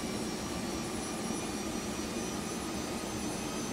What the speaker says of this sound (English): Listen to the engine sounds as the engines start.